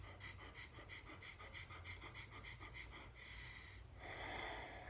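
Short rapid bursts of breathing driven from the abdomen during a Systema exercise, a quick rhythmic panting that runs steadily and then turns into a longer exhale, quiet and close.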